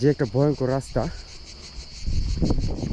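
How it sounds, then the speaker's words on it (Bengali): Crickets in a remote hilly forest keep up a steady, high shrill chirring through the whole stretch, moderately close. Someone talks over the opening, and a rough rustling rises toward the end. "যে ঝিঝি পোকা আছে, এই ঝিঝি পোকাগুলো ডাকতেছে"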